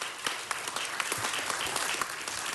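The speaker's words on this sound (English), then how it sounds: "Let's give him a round of applause." A crowd in a city council chamber claps steadily as a guest is welcomed, a dense, even wash of applause that runs the whole time with no talking over it.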